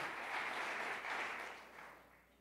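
Congregation applauding in a church service, a soft, dense wash of clapping from many people, distant and faint, swelling briefly and then tapering off.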